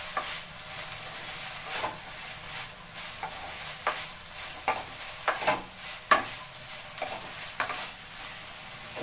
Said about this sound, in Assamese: ভাজিখিনি ভালদৰে লৰাই থাকিব।